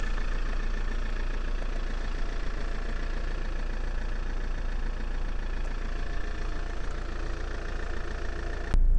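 A 2009 Saab 9-3 1.9 TiD diesel convertible idles steadily at close range, a continuous low rumble with faint knocking texture, ending with a brief louder bump.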